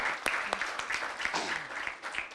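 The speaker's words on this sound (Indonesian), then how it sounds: "tepuk tangan untuk beliau" Audience applause at a vocational high school event, a sustained wash of many clapping hands at moderate distance, steady throughout with brief voices underneath.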